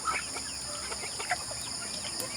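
Backyard chickens clucking while being fed, scattered soft clucks and short calls at low to moderate level over a steady background hum.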